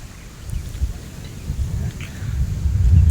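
A strong, cool wind blows across a hilltop Shiva temple at Vellimalai in Sirumalai, making a steady low rumble and buffeting on the microphone that builds toward the end. No clear voices are heard.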